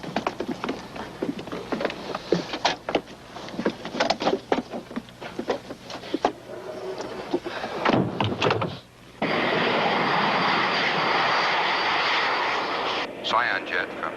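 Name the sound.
jet aircraft engine in flight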